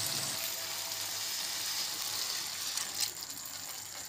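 Potatoes frying in masala for egg curry sizzle with a steady hiss as water is poured in, a brief splash rising near the end over the continuing crackle, close and moderately quiet.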